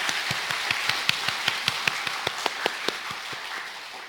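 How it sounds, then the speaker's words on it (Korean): A church congregation applauds in steady rhythmic unison, with distinct evenly spaced claps ringing over a wash of scattered clapping in a reverberant hall. "우리 여신도들 축복하면서 우리 박수로 격려하겠습니다"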